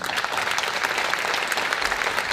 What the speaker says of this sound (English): So another big round of applause for our students.